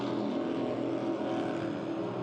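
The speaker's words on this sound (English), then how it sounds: "This is a 42-foot fountain featuring a pair of Mercury 700 SCI engines, number 6 Speedmaster drives, and Herring propellers." A 42-foot Fountain racing powerboat with twin Mercury 700 SCI engines, number 6 Speedmaster drives and Herring propellers drones steadily at a P1 SuperStock regatta in Madison, a fairly faint, continuous engine roar with no break.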